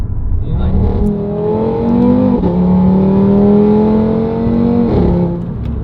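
A Nissan R32 GTR engine revving loudly up close, its pitch climbing in strained pulls with sharp breaks where the revs drop and rise again.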